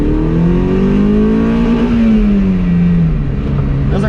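Toyota MR2 SW30 with a 6-speed manual revving while being driven, a loud steady engine drone whose pitch climbs and then eases back down over a few seconds, heard close from inside the car.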